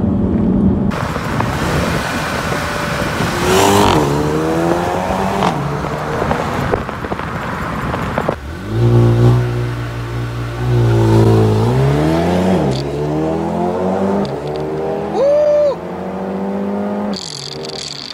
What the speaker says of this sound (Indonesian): pas dibuka tadi ada suara crackle yang di belakang